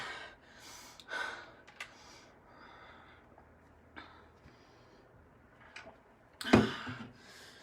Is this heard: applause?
no